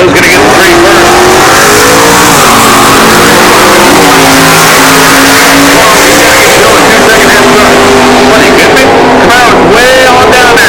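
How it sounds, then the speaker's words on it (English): Hemi-powered stock eliminator drag racing car roaring down the strip, loud and close, with a steady engine howl and shifting pitch throughout, under a track announcer's voice. "Here comes that big old, bad old, mean old Hemi car."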